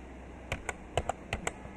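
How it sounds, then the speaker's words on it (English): A handful of light, separate clicks from a computer keyboard as a name is typed in for a Roblox Brookhaven game, close and soft, with uneven spacing over a faint room hum. "let's type my name"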